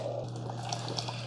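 Keurig K-Cafe coffee maker running water through during descaling, a steady trickling flow over a low constant pump hum.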